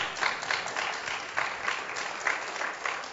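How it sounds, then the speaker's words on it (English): A church congregation breaks into steady applause, a dense wash of many hands clapping with rhythmic swells, fairly distant and even throughout. "Somebody give God a hand clap."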